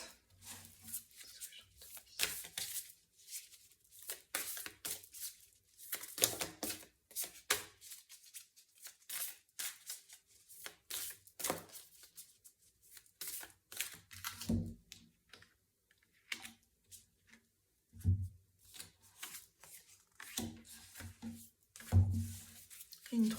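Tarot cards shuffled and drawn by hand, a string of crisp papery slaps and riffles coming in bursts, close and moderately loud, with occasional soft low thumps as cards are laid down.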